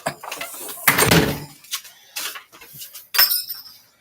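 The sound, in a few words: front door closing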